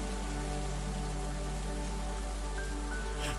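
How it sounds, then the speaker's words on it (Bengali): Heavy rain pouring down in the mountains, a steady dense hiss that stays even and loud throughout with no breaks or voices. "পাহাড়ে মুষলধারে বৃষ্টি হচ্ছে"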